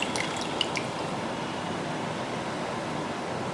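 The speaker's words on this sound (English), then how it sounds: "Squeeze all the water." Water squeezed out of a soaked Johnson's baby wipe into a bowl, giving a steady, close, hissing trickle that runs alone from start to finish.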